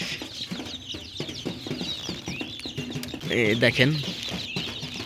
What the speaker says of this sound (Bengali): মুরগি বাচ্চা অনেক শব্দ করতেছে